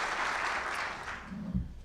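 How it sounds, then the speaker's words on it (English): Audience applause at a university distinguished awards ceremony for an honoree, a short burst of moderately loud clapping from a hall crowd, fading toward the end. "A round of applause for Debbie."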